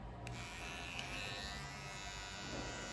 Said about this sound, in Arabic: وتجيب ماكينة الزيرو